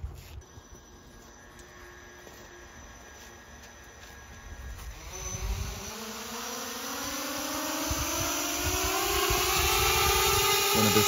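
A small FPV drone's motors whine and rise in pitch as it speeds up and flies closer, growing steadily louder against a quiet background.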